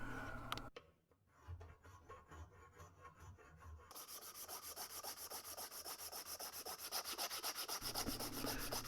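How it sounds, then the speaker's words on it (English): Sandpaper worked over a wooden knife handle on a san mai bushcraft knife, giving steady rhythmic scratchy rubbing strokes, close and fairly quiet, with a brief pause near the start before the regular back-and-forth resumes. "there's nothing for it but to move up to sandpaper"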